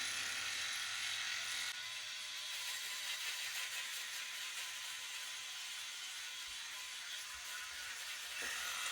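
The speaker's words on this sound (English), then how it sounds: "One thing I maybe need to do when I shave is I almost need to go a little bit slower as, I spin those tiny little circles" Philips Norelco 9400 electric shaver buzzing in small circular passes, a thin steady high-pitched whir that wavers slightly as the heads move, close and fairly quiet with no voices.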